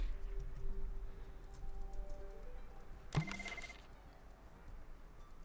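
A telephone rings once in the Project Highrise building-management game, a short bright burst against a faint musical background with no talk.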